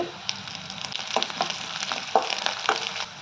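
Mustard seeds, cumin, chana dal, urad dal, chopped onion, green chillies and curry leaves fry in hot oil for a tempering, giving a steady close sizzle with scattered pops and crackles, no talking.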